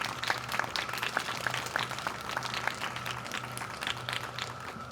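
Applause for students at a Springfield fifth-grade ceremony, moderate clapping from a seated audience of families, fairly even and somewhat distant, with a low steady hum running underneath.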